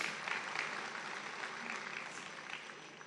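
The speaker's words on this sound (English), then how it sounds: "Can we clap hands for him?" Large audience at a football tournament draw ceremony applauds in a steady, continuous wash of many hands, fairly distant and soft, slowly fading toward the end.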